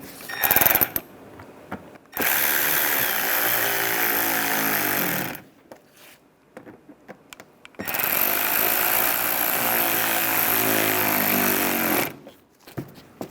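A power driver tightens emblem screws on a 2011-2015 Chevrolet Cruze in two long, steady whirring runs separated by a short pause, with a brief tool burst and quiet handling at the start and end.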